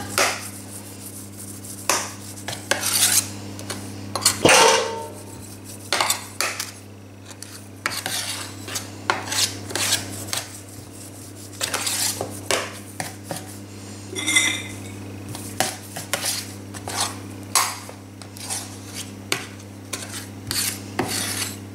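A metal spoon scraping and smoothing the surface of a semolina and almond cake (qalb al-lawz) in a pan, with repeated close scrapes and clinks in irregular bursts and short pauses between them.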